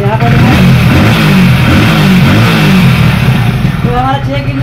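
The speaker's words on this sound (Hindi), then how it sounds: "गाड़ी को सेल्फ मारेंगे। तो सेल्फ स्टार्ट हो चुका है" A Hero Splendor Plus BS6 motorcycle engine idles steadily just after a self-start, its loud, close, continuous throb showing slight rev variation throughout.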